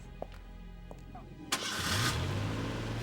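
A truck engine cranks and catches after a few faint knocks, settling into a steady low idle close by with a rising hiss as it starts.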